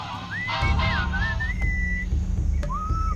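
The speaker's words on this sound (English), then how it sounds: "What is that enchanting whistling sound?" Melodic whistling drifts through a scene in the video game Sam and Max Beyond Time and Space, a series of gliding, sustained notes played over a low rumbling background.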